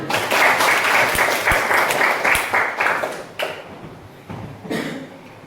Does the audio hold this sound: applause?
yes